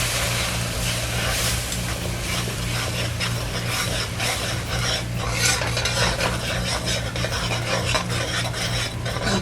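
Steady, dense sizzling of pachounie paste in a hot pan while cooking curry goat tripe, with stirring scrapes over a constant low hum, continuous and fairly close throughout.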